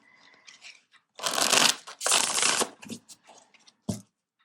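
Tarot cards being shuffled in two long riffling bursts with quick softer flicks and taps around them, close and fairly loud, no voices.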